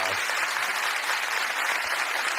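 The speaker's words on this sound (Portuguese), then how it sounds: "Uma calorosa salva de palmas." A warm round of applause from a church congregation, dense continuous clapping that stays loud and even from start to finish.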